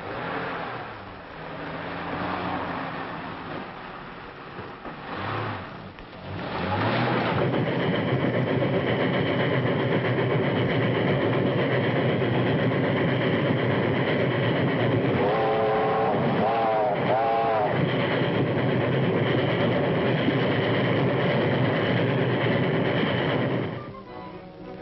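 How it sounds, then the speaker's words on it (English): A train runs in a 1930s film scene with a steady, loud rumble that builds after a few seconds and continues, with a whistle sounding midway and people talking at the start. "That's the train."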